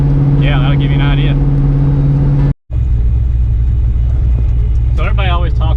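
A street car with a Turbo 400 transmission, 3.73 gears and 275 radials drives on the road, a steady low engine rumble and road drone that drops out briefly and returns, with a voice talking over parts of it.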